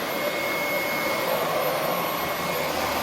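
A Womow 2-in-1 cordless stick vacuum cleaner runs steadily with a continuous, loud whirring motor drone and airy suction noise, close by and without a break, with no talking.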